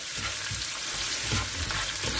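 Loud, steady sizzling of peppers frying in a hot pan for menemen, with soft stirring scrapes underneath.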